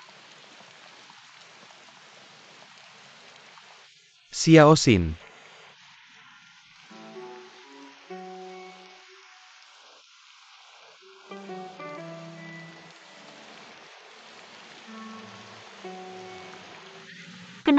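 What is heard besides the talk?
heavy rain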